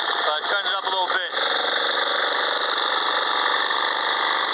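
An old Snapper riding mower engine idles steadily and loudly, a constant mechanical drone that continues after someone speaks briefly over it at the start.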